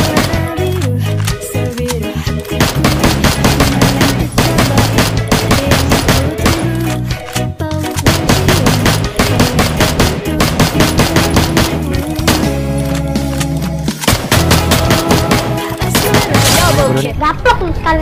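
Rapid, dense gunfire from the Free Fire Max mobile game, including an M14 rifle, rattling continuously in loud bursts over layered game sound effects.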